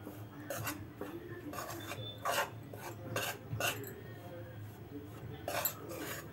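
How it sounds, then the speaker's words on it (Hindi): Gram flour is stirred and roasted in a pan over a low gas flame, with repeated soft scraping and rasping strokes of a spoon against the metal in an uneven rhythm, faint and close with no talk. "गैस को बिल्कुल कम रखेंगे, ऐसे बराबर चलाते हुए भुनेंगे।"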